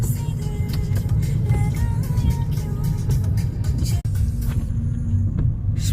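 A car drives along a road in Bangladesh, its engine and tyre noise forming a steady, loud low rumble heard from close by for the whole stretch, with no talking.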